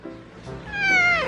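A house cat meows once, a clear drawn-out rising then falling cry near the microphone, preceded by softer rustling in a quiet room.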